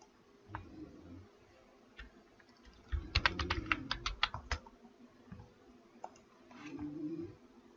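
A computer keyboard clicks in a quick burst of keystrokes as text is typed into After Effects, with a few scattered taps before and after, fairly close and alone.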